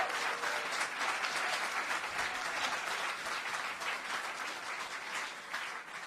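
A celebration crowd in Boston applauds steadily, a dense wash of many hands clapping at an even level from start to finish, with no voices standing out.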